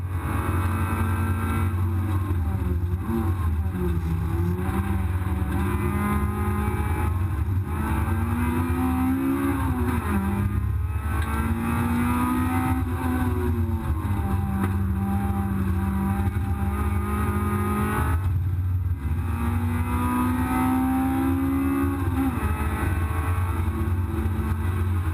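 A race car at Brands Hatch circuit drones on steadily from onboard, its engine note rising and falling through gear changes and corners over a constant low rumble, with no talk.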